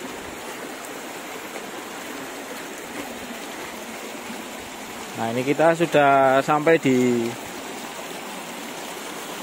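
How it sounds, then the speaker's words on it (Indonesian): A steady rush of falling water from a waterfall on a lava-flow path on Semeru volcano fills the background while someone speaks briefly over it, close by. "Ini air terjun ini yang bawah."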